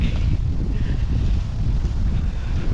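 Strong wind buffeting the microphone with a steady low roar and rumble, constant throughout.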